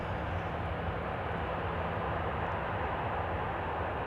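An airliner rolling out after landing at Amsterdam Schiphol with its thrust reverser slots opened but no reverse thrust applied, a faint, distant, even engine rumble that stays steady throughout.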